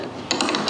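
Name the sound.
wrench tightening eyelets on a boat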